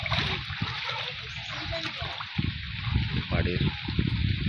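Floodwater sloshes and splashes steadily around a flooded village house with the yard under knee-deep water, while someone speaks close by over the continuous watery wash.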